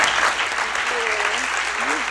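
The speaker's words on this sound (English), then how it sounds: "I'd like to give them one final round of applause" Steady clapping from a conference audience applauding a panel, dense and continuous throughout, with a voice briefly audible beneath it.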